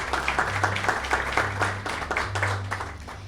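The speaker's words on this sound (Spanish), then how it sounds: "Por favor, un aplauso para Carlos Zamboya." Rhythmic clapping from a small group at a panel discussion in Ecuador, even and moderately loud, with a low hum underneath.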